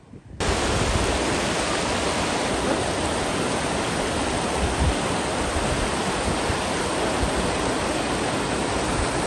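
Excelsior Geyser hot spring in Midway Geyser Basin, Yellowstone National Park: a steady, dense roar of rushing, hissing water runs loud and unbroken throughout, like a close waterfall, with no voices.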